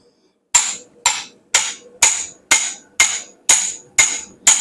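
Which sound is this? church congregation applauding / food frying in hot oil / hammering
hammering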